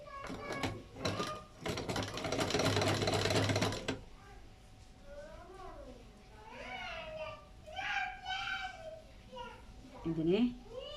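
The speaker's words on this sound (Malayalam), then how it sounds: "മടക്കിയിട്ട് തുന്നുന്നത് കാണിക്കാം" Sewing machine stitching folded fabric, a fast continuous whirring run for the first few seconds, then quiet while someone talks and children's voices chatter nearby.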